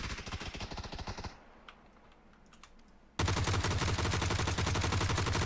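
Rapid video game gunfire with heavy recoil during a GTX 980 gaming test, loud sustained bursts of shots at the start, a quieter stretch, then dense continuous automatic fire to the end, with no talk.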